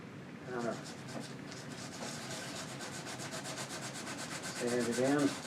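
Sandpaper rubbing shellac into a turned wooden bowl on a lathe, a soft continuous scratchy hiss with a pulsing rhythm, quiet and close, with speech at the start and end.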